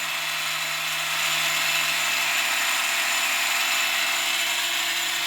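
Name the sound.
12-volt circulation pump running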